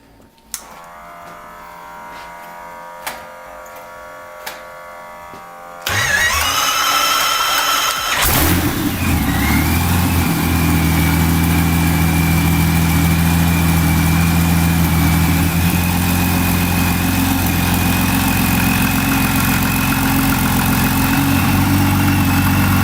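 A big 773-cubic-inch inverted V12 piston aircraft engine cranks and catches, then roars into a steady, loud, throbbing idle that runs on without letup.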